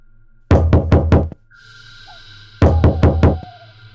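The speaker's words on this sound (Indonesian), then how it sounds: "tiba-tiba, seperti ada yang mengetuk kaca jendelanya." Knocking on a glass window comes in two quick bursts of about five sharp, close raps each, separated by a short quiet gap with a faint tonal hum underneath.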